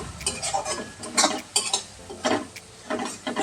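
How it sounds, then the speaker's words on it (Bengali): Chili paste mixture for katla kalia frying lightly in a pan, heard as close clattering spatula strokes and scrapes in uneven bursts over a soft background sizzle, with no voices. "লঙ্কার মিশ্রণটাও একটু আমি ভেজে নিচ্ছি হালকা করে।"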